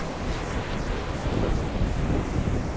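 Floodwater rushes through a tunnel with a loud, continuous roar and constant low rumble, dense and close with heavy wind-like buffeting and no voices.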